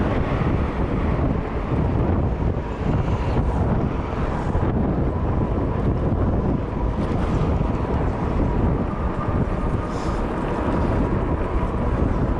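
A headwind buffets a camera microphone while riding an e-bike along the coast, making continuous loud, low rumbling roar with gusty swells and no clear speech throughout.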